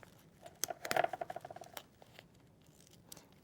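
Scissors trim craft material with a few quick snips close by, followed by a short patter of small clicks and light rustling in an otherwise quiet room.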